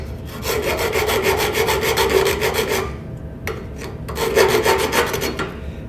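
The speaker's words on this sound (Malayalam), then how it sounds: "ഇത് ഒരു കാലി എക്സോ ബ്ലേഡ് കൊണ്ട് കട്ട് ചെയ്യുമ്പോൾ" A bare hacksaw blade cutting through iron pipe, giving a steady run of close, loud rasping back-and-forth strokes, then a short pause before another burst of sawing.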